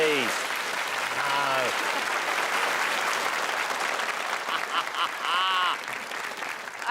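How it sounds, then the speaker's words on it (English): Studio audience gives a round of applause during a maths quiz show, a sustained wash of clapping, with a presenter's voice and brief talk over the start and end. "give me a round of applause."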